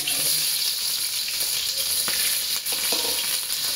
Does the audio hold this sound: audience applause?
no